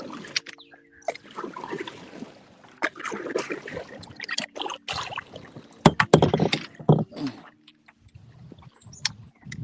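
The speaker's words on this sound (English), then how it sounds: "No, it's dumb paddling." Paddle strokes dip and splash in water from a small boat, irregular sloshes and drips close by, with quiet stretches in between.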